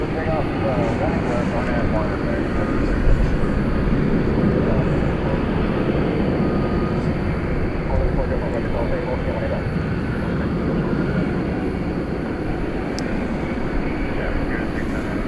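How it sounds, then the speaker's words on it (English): Qantas Flight 22 airliner in Yam Dreaming livery bound for Melbourne rumbling steadily at DFW Airport, a broad continuous roar held at a fairly loud level throughout, with someone talking over it. "This is Qantas. Flight 22 going to Melbourne."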